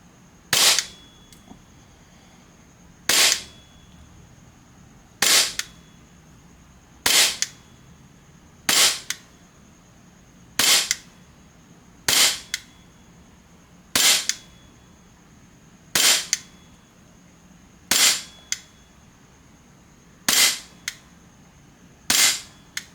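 A VFC SIG Sauer P320 M17 gas airsoft pistol fires twelve sharp, evenly spaced shots about two seconds apart, each a crisp pop with a faint hiss, close by and with no talking.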